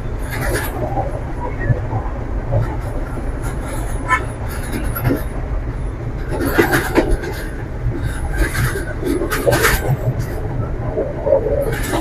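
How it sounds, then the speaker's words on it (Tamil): Colombo to Galle coastal line train in Sri Lanka rattling and rocking along, a steady loud rumble with clanks and squeaks, faint voices mixed in. "ஆனா ட்ரெயின் சரி வந்து ஆடிக்கிட்டு பயங்கர போகுது"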